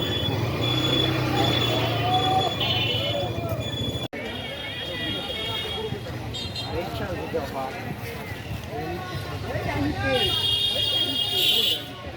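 A train pulls into Santahar railway station with rumbling wheels and high metallic squeals over a busy crowd, while people talk nearby throughout.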